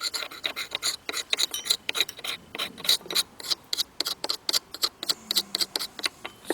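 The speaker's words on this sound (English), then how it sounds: "right now what I'm doing is I'm scraping off all the solid gunk out of the fuel bowl" Solid gunk is scraped out of the fuel bowl of an old self-propelled lawn mower, making close, rapid, irregular scratchy rasps in short bursts with brief gaps, continuing throughout.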